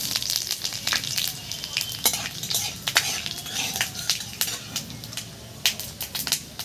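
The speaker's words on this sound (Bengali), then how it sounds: "তেলের মধ্যে পাঁচফোড়ন আর লঙ্কা দেবো।" Loud, crackling sizzle of panch phoron spices and chillies frying in hot mustard oil in a kadai, with sharp pops and steady hissing close by, plus occasional utensil scrapes.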